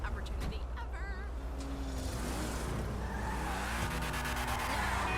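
A V8 race car engine in the video game GTA 5 Online, modeled on a 1987-1989 Mercedes-Benz Sauber C9, roars continuously, its pitch sweeping up and down through the gears, with tire squeal and faint talk underneath.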